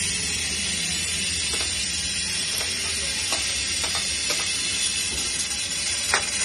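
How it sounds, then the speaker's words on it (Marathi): Steady hissing rush of steam venting from a pressure cooker on a gas stove while soyabean biryani rice cooks, a continuous close broadband hiss with faint clicks and rattles from the valve, no talking. "इथे रेड बटन वरती आलंय आणि इथून प्रेशर बाहेर पडायला स्टार्ट झाले"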